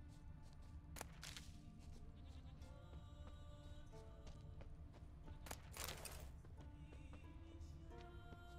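Goats bleat in The Witcher 3, several short, faint cries scattered over a quiet game backdrop with occasional soft rustles.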